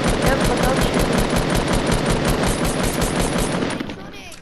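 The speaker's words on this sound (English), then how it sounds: "Because I'm shooting down the structure." Rapid, continuous automatic gunfire blasts away at a structure in a video game, loud and close, a dense rattling stream of shots that eases off near the end.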